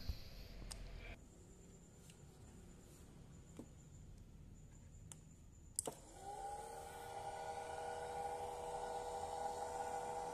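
A homemade mini air blower built from PVC pipe with a side intake hole switches on partway through, spinning up into a steady, fairly loud motor whine that runs on alone until the end.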